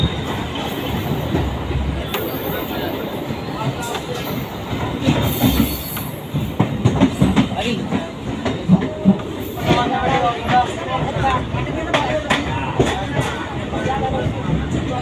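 A MEMU special train on the Katwa to Rampurhat line pulls away and runs along the rails, with steady rolling rumble, wheel squeal and clattering joints heard from on board, while people talk nearby throughout.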